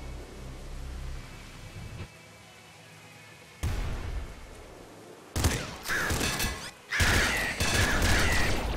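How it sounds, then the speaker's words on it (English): Explosions in the Nuclear Throne Ultra mod, a top-down shooter, burst out as several loud, broad crashing blasts in the second half, following quieter rumbling game noise. "That was a weird explosion."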